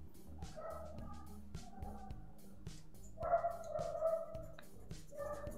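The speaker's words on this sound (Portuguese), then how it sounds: "Esse cachorro acordou." A dog yips and barks in short bursts, fairly close, with a whimpering tone, against a quiet indoor background during an MDF stencil painting session.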